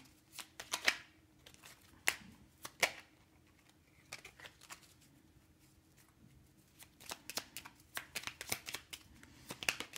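Oracle cards are shuffled by hand in quick bursts of crisp riffling and flicking, close and fairly quiet, with a pause of near silence in the middle before the shuffling resumes.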